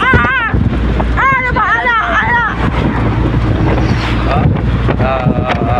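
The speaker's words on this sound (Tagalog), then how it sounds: "grabe ka hangin" Strong wind roars and buffets the microphone nonstop, loud and close, with people talking over it.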